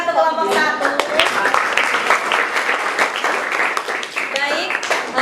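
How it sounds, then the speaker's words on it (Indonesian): A classroom group of students claps for their classmates after a group presentation, dense steady applause filling the whole stretch, with voices calling out over it. "Tepuk tangan untuk kelompok 1"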